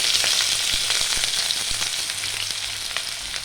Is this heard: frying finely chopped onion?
yes